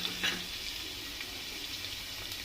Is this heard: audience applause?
no